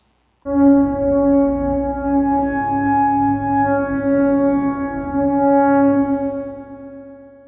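A low, sustained droning tone with rich steady harmonics swells in and holds, slightly wavering in loudness, then fades at the end.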